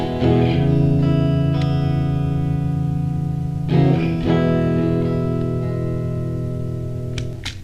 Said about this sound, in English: this is how it sounds with the reverb